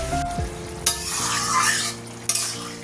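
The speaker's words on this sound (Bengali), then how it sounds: "আর এখানে হচ্ছে মশলা কষা" Spice masala fries in hot oil for a curry, a steady sizzle under a spoon stirring close by. Two sharp metallic scrapes stand out.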